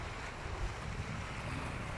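Waves crash against rocks along a stony coastal strip, a broad continuous wash of surf that is fairly quiet, with wind rumble mixed in and no voices.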